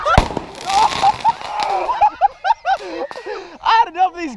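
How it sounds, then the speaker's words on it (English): Fourth of July fireworks crack and pop in short bursts at a backyard-style celebration. Excited shouting and laughter are mixed over and around the blasts. "I had enough of these ghetto ass fireworks."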